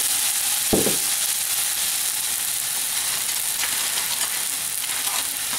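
Beef fried rice sizzles loudly in a hot pan as soy sauce goes in, a steady frying hiss with a sharp burst near the start and no talk.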